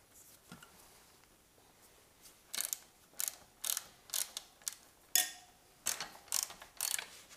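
A wrench clicks and ratchets in short, quiet bursts while loosening the rear sprocket nuts on a Suzuki DRZ400S motorcycle, with irregular metallic ticks close by and no talking.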